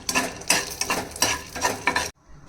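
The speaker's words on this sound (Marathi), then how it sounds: "एक चमचा तेल टाकून फुटाण्याच्या डाळ्या ह्या दोन चमचे चांगल्या भाजून घेऊ" Roasted chana dal being stirred in a little oil in a pan: close, rhythmic scraping and rattling of a spoon against the pan with the dal shifting, in quick bursts that stop abruptly near the end.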